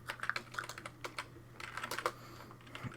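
Quick, light keystrokes on a computer keyboard entering a DOS command on a Wii running Windows 3.1, faint and close with a low steady hum underneath.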